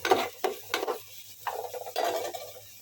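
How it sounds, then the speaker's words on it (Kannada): Sliced onions fry in a pan and are stirred, giving repeated scraping spoon strokes in an uneven rhythm over a soft sizzle, close by and without voices. "ಎಂತ ನೀರುಳ್ಳಿ ಮಾಡ್ತಾ ಇದ್ದೀನಿ, ಕುಕ್ ಮಾಡ್ತಾ ಇದ್ದೀನಿ"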